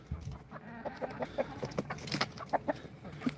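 Clucking chickens with a rooster among them, a busy run of short calls and squawks close by, some louder bursts toward the end.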